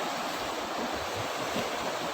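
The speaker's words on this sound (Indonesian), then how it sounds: "Ini sungai yang mengalir, yang bagian sungai agak kecil mengalir ke arah barat." A small river flowing westward in a village setting gives a steady, even rush of water, continuous broadband noise with no distinct events and no talking.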